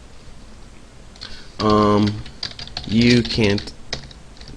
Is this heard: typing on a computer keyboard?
yes